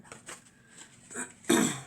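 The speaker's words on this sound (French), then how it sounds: "Je tousse encore, hein, je suis encore un petit peu enrhumée" A short, muffled cough sounds near the end after some faint rustling, close to the microphone.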